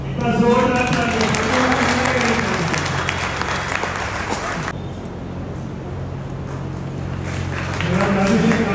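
Loud applause from an audience at an academic excellence awards ceremony, sustained clapping that swells at the start, dips midway and rises again toward the end, with a voice talking over it.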